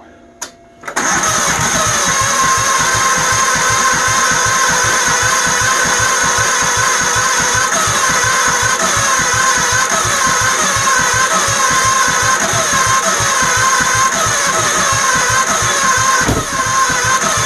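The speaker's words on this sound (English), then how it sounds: "There, it's backfiring." A Troy-Bilt GTX 20 tiller engine starts after a brief pause and runs loudly and steadily at close range, its rapid chugging firing pulses carrying a few sharp backfire pops, with no talking over it.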